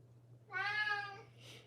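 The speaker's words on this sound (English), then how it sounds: "Wow, we lasted pretty long without any Kaya meows" One clear, close meow from a cat, rising then trailing off, with a faint low hum underneath and a soft breathy sound after.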